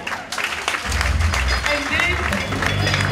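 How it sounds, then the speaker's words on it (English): A church congregation breaks into a mighty clap offering, dense clapping from a crowd swelling in after a brief lead-in, mixed with voices and low musical tones underneath. "I want to give God a mighty clap offering."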